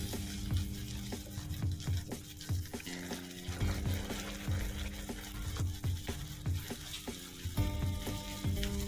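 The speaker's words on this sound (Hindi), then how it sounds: "उसको 1 बाय 1 करके इसमें फ्राई होने के लिए हम डालते जाएंगे।" Aloo tikki potato patties fry in hot oil for a homemade McAloo Tikki burger, giving a steady close sizzle with crackling pops and occasional clinks of a utensil throughout, with no talking.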